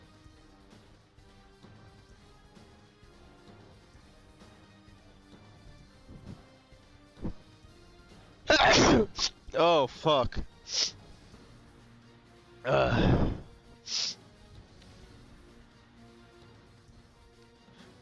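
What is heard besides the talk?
sneeze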